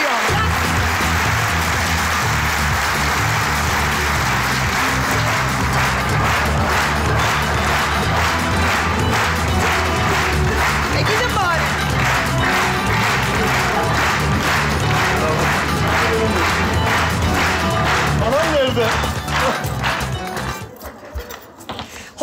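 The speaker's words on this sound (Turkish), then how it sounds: "Hadi alkışlayalım." Studio audience applause and cheering at a live Turkish comedy sketch show, a dense, loud crowd wash carrying on for about twenty seconds before cutting off abruptly.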